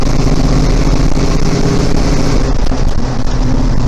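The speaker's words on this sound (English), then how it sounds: "motor sounds good. It's got good oil pressure." A 1968 International Scout's engine drones loud and steady while driving on a snowy road, with a deep rumble and some wind noise throughout.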